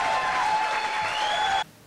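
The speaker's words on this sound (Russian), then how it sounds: "Ну, тут аплодисменты мы ставим," A short burst of inserted applause, even and moderately loud, cuts off abruptly near the end.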